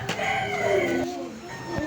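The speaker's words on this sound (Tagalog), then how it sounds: "Dito kasi maraming manok dito sa bahay." Chickens clucking with a rooster crowing nearby, a busy mix of overlapping fowl calls throughout.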